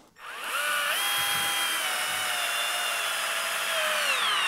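A brushed Milwaukee cordless drill driver whirs steadily at high speed, its tone rising slightly as it spins up, then holding a constant whine throughout.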